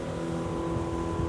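A sport motorboat's engine holds a steady drone at about 4,000 revs during a turn, a constant near hum with a clear tonal whine and no talk.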